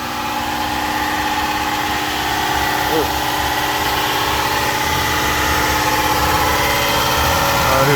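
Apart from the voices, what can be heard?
swapped 1997 Toyota Tercel engine starting and idling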